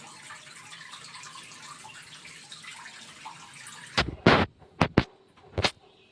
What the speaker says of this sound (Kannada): ಈಗ ಇದರಲ್ಲಿರೋ ನೀರೆಲ್ಲ ಹೋಗ್ತಾ ಇದೆ